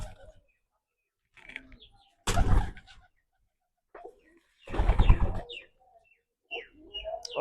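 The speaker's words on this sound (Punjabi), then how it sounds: "ਇਹ ਪੁੰਨੂ ਵਾਲੇ ਕਬੂਤਰ ਆਪਣੇ ਪੁੰਨੂ ਵਾਲੇ ਕਬੂਤਰ ਹੀ ਜ਼ਿਆਦੇ ਆ" Malabar pigeons kept at home coo and call in a few separate short bursts, fairly close and clear, with quiet gaps between them.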